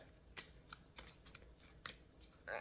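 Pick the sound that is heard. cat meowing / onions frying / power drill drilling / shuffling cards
shuffling cards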